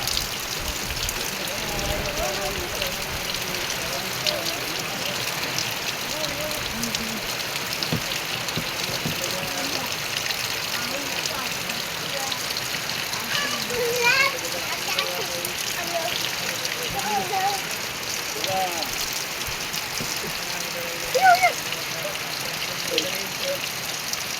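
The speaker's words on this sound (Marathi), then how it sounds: "एक नंबर पाऊस पडायला लागला आहे" Rain falls steadily outdoors in a rural setting, a constant even hiss of drops on surfaces that holds close and unchanging throughout, with faint background sounds beneath it.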